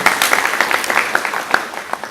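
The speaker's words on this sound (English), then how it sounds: "Can you give them a clap again?" Brief, loud audience clapping at a stakeholders forum, a short, close burst of individual claps over a couple of seconds.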